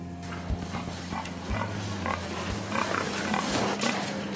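Pigs grunt and oink inside a large industrial pig farm near Angers, France. The sounds come over a steady low mechanical hum of the barn, with scattered knocks and rattles.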